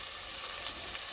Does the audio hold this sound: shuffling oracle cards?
no